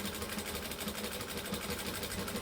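Sewing machine back stitching on a denim jacket, a steady rapid mechanical whir with an even stitching pulse, close and continuous throughout.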